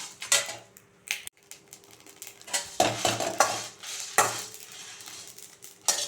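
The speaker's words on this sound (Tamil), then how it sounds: "இந்த மிளகாவை வந்து நம்ம இப்போ சேர்த்து இதை வந்து வறுத்துக்கலாம்" Dried chillies roasting in a pan with curry leaves for a mango chutney, a dry crackle broken by several sharp scraping and clattering strokes of a spoon against the pan, fairly close, with no talking.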